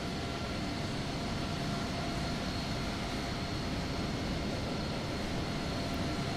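Airliner engine roar in Microsoft Flight Simulator 2020, from another airplane nearby while a FlyByWire A380 sits at a remote ramp, a steady, loud broadband rumble with no break, and no voices.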